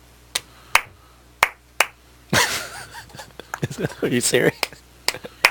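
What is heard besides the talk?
hand clapping twice to start a timer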